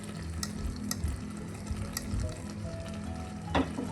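Curd stirred into a Kerala chicken curry in a pan, quiet bubbling sizzle with spoon scrapes and a few sharp clinks against the pot, one louder clatter near the end.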